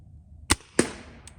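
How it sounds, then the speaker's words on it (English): A crossbow arrow is shot while zeroing a scope: two sharp, close snaps about a third of a second apart, then a faint tick, all in a quiet setting with no talking. "So I'm gonna take a 3-shot grouping for you guys,"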